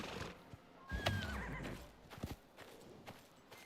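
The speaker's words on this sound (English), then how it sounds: "horse is crazy" A horse in the survival video game Icarus whinnies loudly with a high, wavering neigh near the start, followed by snorts and a few hoof clip-clops, with no talking.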